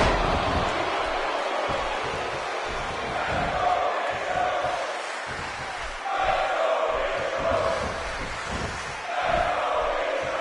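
An arena crowd in the WWE 2K16 wrestling game at WrestleMania 21, a dense, continuous roar of cheering with swelling chants that peak and ease in waves, loud and steady throughout.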